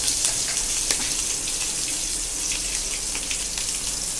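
Asafoetida and curry leaves crackle and sizzle in hot oil, a steady, dense hiss with scattered pops running throughout, fairly loud and close with no voices.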